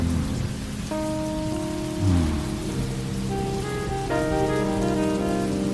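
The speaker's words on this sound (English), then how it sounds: "The rain is getting heavier." Heavy rain pounds steadily on the body of a car, a dense constant patter that grows fuller and louder over several seconds, with tonal hum and a low thump mixed in.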